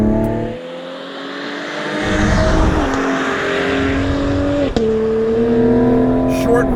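A Cadillac CT5-V's engine climbs through its revs toward a short 6,000 RPM redline under steady acceleration, heard from inside the cabin as a rising, sustained drone with a brief shift break midway.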